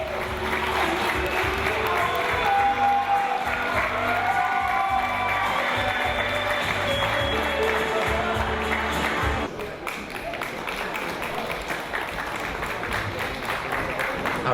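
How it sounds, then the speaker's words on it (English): Sustained loud applause and cheering from a pageant audience at the Miss Polonia USA 2015 event, a dense wash of clapping with whoops, steady throughout and thinning slightly near the end. "Big applause for my favorite portion of the event."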